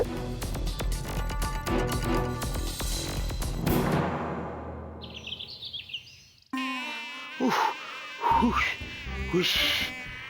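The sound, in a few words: cartoon mosquito buzzing sound effect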